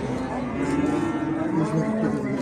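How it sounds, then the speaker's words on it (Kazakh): Cows and calves mooing at a busy livestock market, with steady overlapping lowing calls that keep going through the whole stretch, loud and close. "Бұзау сыйыр."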